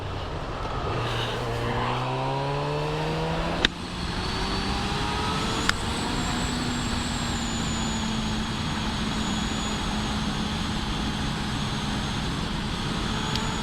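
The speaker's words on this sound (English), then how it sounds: "My God, this bike is fast." A 2024 Honda CB1000R Black Edition motorcycle riding fast on the road, engine note rising in several quick gear-by-gear sweeps early on, then a steady loud drone with strong wind rush and no talk.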